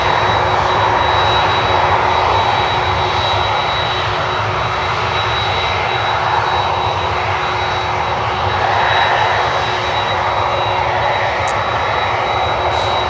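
Airliner jet engines, a Dreamliner or a Swiss 777 at Miami, make a loud, steady, unbroken roar with a faint whine running through it, like a big jet passing close by.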